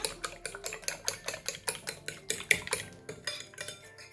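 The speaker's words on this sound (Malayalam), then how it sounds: "മുളക് പൊടി, മഞ്ഞൾപ്പൊടി, മുളക് പൊടി, കുരുമുളക് പൊടി ഇതെല്ലാം കുറേശ്ശെ ചേർത്ത് കൊടുത്തിട്ട് നന്നായി ബീറ്റ് ചെയ്തെടുക്കുക." Eggs being beaten with chili, turmeric and black pepper powders for a vermicelli pulao, a steady run of quick, close clinking whisk or fork strokes against a bowl with no talk.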